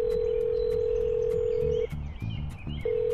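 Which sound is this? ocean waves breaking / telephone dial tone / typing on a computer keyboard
telephone dial tone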